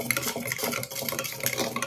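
A spoon scrapes and clinks while stirring thick homemade hair dye oil made with mustard oil and roasted powders in a pan, a close, busy run of rubbing and tapping sounds.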